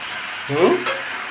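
Goat meat being stir-fried in a pot with oil, a short burst of scraping stirring over a steady low sizzle.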